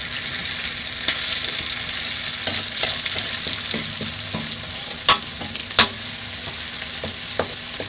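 Pounded garlic and chilli hit hot oil with a bright, close sizzle, stirred with repeated clicks and scrapes and a couple of sharp louder knocks of a utensil against the wok.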